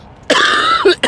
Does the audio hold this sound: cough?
yes